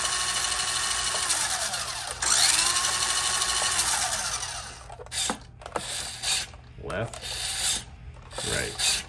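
A Radio Shack Road Fury toy RC car has its small electric motor run in forward and turbo, a loud, sustained gear whine that steps up, then breaks into short on-off bursts. No talking.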